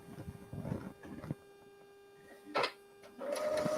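A sewing machine stitches forward and then back stitches in short mechanical bursts separated by quiet gaps, close and moderately loud, with no talking.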